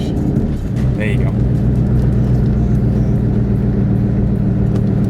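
2003 Ford Mustang GT with a manual gearbox driving and shifting into second gear, a loud steady low engine rumble with a voice heard briefly over it.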